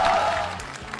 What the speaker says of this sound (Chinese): 掌声送上，恭喜！